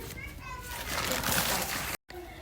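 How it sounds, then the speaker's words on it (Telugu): Water splashes and sloshes steadily from a small metal pot into a bowl of jaggery for syrup for a couple of seconds, close by, with a voice faintly in the background. "ఒక చెంబుతో వాటర్ పోసాను"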